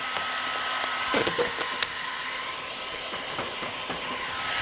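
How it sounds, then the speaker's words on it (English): A heat gun blows hot air onto car wrap vinyl, a steady faint airy whoosh running throughout, with a few light crinkling ticks and taps from the film and hands near the middle. "Now, I take the heat gun, make sure the corner is already finished."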